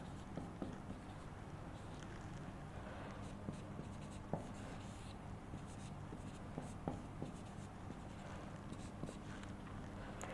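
Writing numbers on a board during a math lesson: faint, scattered taps and scratchy strokes in an uneven rhythm, heard alone over a steady background hum.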